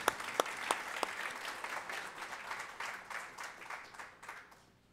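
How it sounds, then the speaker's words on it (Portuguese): Audience at a municipal council solemn session honoring education professionals applauds the teachers, dense clapping opening with a few sharp close claps, then a steady patter that thins and fades toward the end. "eu quero também aplaudir eles"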